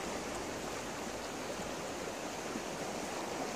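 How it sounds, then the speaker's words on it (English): A wide, deep creek swollen with snowmelt rushes past near a campground cove, a steady broadband roar of moving water with no pauses, even and unbroken throughout. "Of course, you can hear the water racing by."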